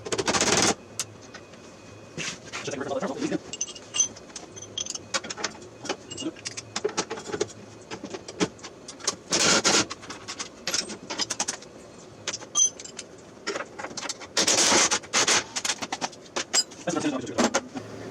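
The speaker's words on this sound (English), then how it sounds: "if you're just starting out and don't have an impact wrench yet, they save a whole lot of time." Impact wrench removing fender bolts on a mud mower, giving repeated short loud rattling bursts separated by pauses, nearby and mostly alone.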